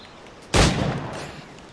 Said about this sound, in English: Alright, so now we're going to shoot this iguana.